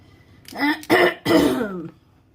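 A person clears their throat and coughs a couple of times, close and fairly loud.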